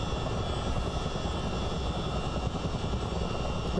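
Chinook CH-47 twin-rotor helicopter in Microsoft Flight Simulator, a constant dense engine and rotor drone, loud and unchanging for the whole stretch with no voices.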